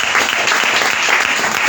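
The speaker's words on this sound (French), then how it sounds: "Tu peux juste acclamer le Seigneur" A church congregation applauds: dense, continuous clapping fills the room evenly and loudly, with no pauses and almost no voices.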